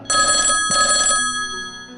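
A telephone rings during a family meal, two clear bell-like rings in quick succession, loud and close, each about half a second long, followed by quiet.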